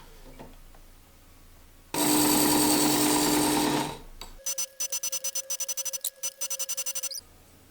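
Electric knife sharpener with an edge angle guide: a loud motor whir for about two seconds, then a rapid run of short, evenly spaced grinding pulses as a knife is drawn through; no talking.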